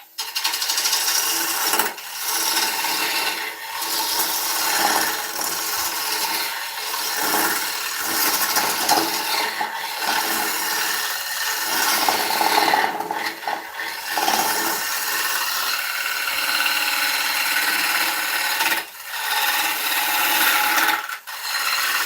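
A woodturning tool scrapes steadily across the face of a beech bowl spinning on a lathe, a loud continuous rasping with brief dips where the cut lifts, no talk.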